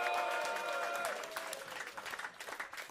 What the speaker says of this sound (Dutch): Ik wil jullie graag een groot applaus vragen voor San XYZ.